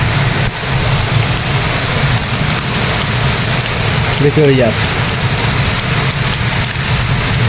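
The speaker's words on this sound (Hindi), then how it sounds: "आंधी तूफान बहुत ज़्यादा चल रहा है" Heavy rain pours steadily in a village windstorm, a dense, loud continuous roar with gusty wind, briefly joined by a short voice near the middle.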